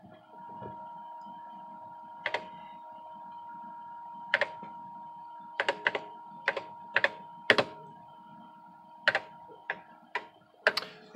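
Keys clatter on an Osborne Executive computer keyboard as someone types commands, sending irregular single clicks and short bursts over a steady electronic hum, close and distinct.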